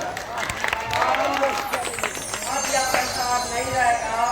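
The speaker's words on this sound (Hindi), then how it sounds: "एक नवोदित कलाकार के लिए एक जोरदार ताली हो जाए" An audience applauds at a village theatre play staged for a new actor, a crowd's clapping and light cheering rising and falling beneath a voice talking in the foreground.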